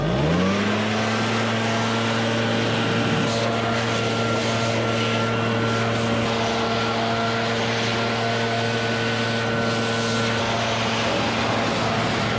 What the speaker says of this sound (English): now we're gonna leaf blow this thing again, so that way we get all the water off of it